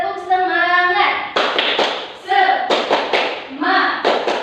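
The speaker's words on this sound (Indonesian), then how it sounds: "Tepuk semangat." Schoolchildren in a classroom doing a rhythmic class clap, sharp groups of claps alternating with children chanting in unison, loud and close.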